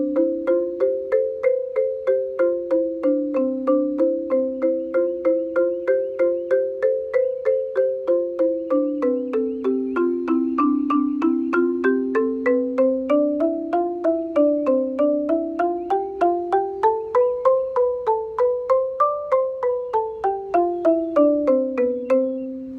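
A marimba plays an octave passage as a steady stream of evenly struck mallet notes rising and falling, close and clear with no voices.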